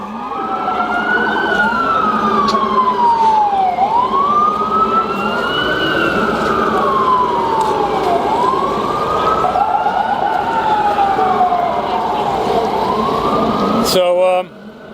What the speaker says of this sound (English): We've got the ambulances coming through the intersection here in a second.